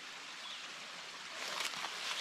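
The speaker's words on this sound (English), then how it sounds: "Here, it's a very small but nice creek." A very small woodland creek running over stones, a soft, continuous bright babble that swells slightly toward the end of the brief stretch.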